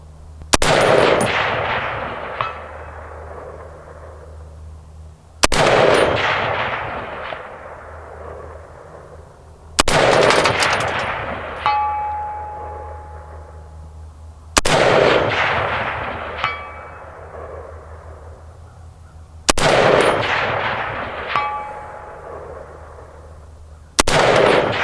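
FN SCAR 17S rifle fired outdoors, five sharp loud shots spaced roughly every five seconds, each followed by a long ringing decay and a faint metallic clang.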